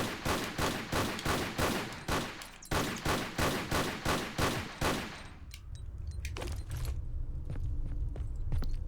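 Rapid pistol gunfire in a Tomb Raider level, about a dozen sharp evenly spaced shots in two bursts aimed at bats, loud and close, followed by a low rumbling ambience with scattered faint clicks and no speech.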